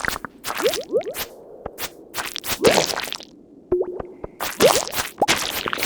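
In the Stardew Valley video game, a squid is struck over and over, giving quick swooshing swings, wet plops and thwacks in rapid bursts with short pauses between them.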